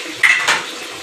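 Dishes, pots and pans clatter and clink together in brief, close bursts as they are washed after dinner at a village home in Pakistan, with little or no tap water audible.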